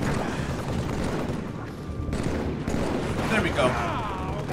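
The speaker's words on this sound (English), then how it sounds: "Where are they shooting from?" Gunfire rattles in dense bursts during a Halo 3 firefight, loud and continuous and mixed with explosive booms, while someone talks over it.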